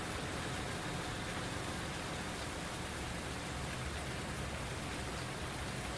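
Rain in the Farm Simulator 19 video game sounds as a steady, dense hiss of falling drops, even and unbroken throughout at moderate level.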